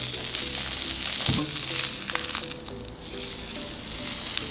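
A thick piece of meat searing in oil on a hot salt block, a steady close sizzle with a few clicks and scrapes from handling.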